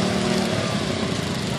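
A racing lawn mower engine roars continuously and loudly at high revs after being restarted at a race, a dense, steady drone filling the whole clip.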